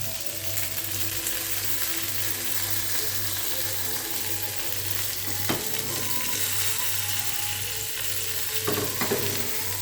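Fish frying in a pan, a continuous close sizzle with soft crackle and a couple of brief clatters as it is turned, no voices.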